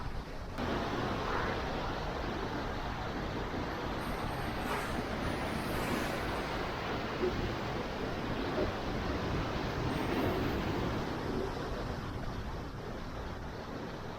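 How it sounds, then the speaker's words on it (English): Ocean surf rolling in steadily at Praia de Santa Barbara on São Miguel in the Azores, a constant broad wash of breaking waves mixed with wind rumble across the microphone, no talk. "Those waves are coming in pretty good."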